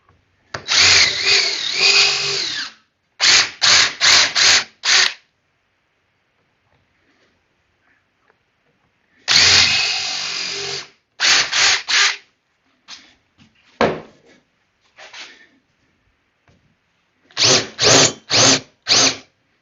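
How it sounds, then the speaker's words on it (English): A power drill whirs in repeated bursts while drilling into wood at a slight angle, one long run then several short pulses, pausing between sets, loud and close with quiet gaps and no speech. "Now, I'm drilling more or less in the center, and I'm offsetting them at a slight angle."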